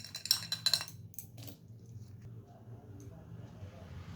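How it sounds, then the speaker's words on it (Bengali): A metal lid goes onto a kadai in which mushrooms are steaming in water. A few quick clinks and rattles sound near the start, then a quiet low hum from the stove continues. "ঢাকা দিয়ে দিলাম"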